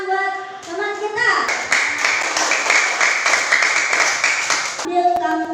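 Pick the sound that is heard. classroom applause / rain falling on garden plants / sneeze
classroom applause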